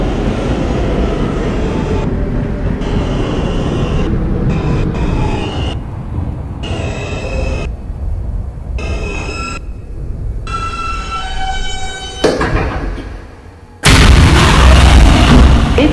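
R160 subway car riding on a Manhattan-bound J Skip Stop train in New York, a loud continuous rumble with squealing tonal whines from the wheels and motors, ending in a sudden louder surge of roaring noise.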